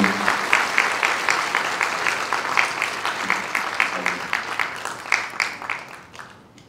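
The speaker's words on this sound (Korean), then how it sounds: "박수 한번 부탁드리겠습니다" Applause from an audience at a stock investment lecture greets a member introduced on stage, steady clapping from a sizeable crowd that thins and tapers off toward the end.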